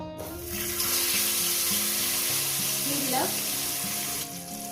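Fish frying in hot oil with salt and turmeric, a loud continuous sizzle that swells up after a brief quiet start and holds steady, with a faint background tone running underneath.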